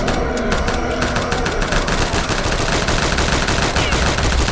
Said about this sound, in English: Still an Nazi in there shooting away.